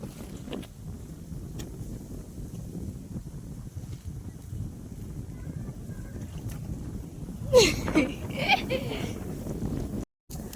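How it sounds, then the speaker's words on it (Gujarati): Steady wind rushes and buffets the microphone throughout on a farm field, with voices briefly rising near the end over the blustery outdoor noise. "આ તો મસ્ત વાયરો ને"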